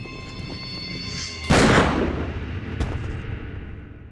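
One heavy gunshot rings out in a TV series scene, a sudden loud boom with a long decaying tail over background music, followed by a fainter crack moments later.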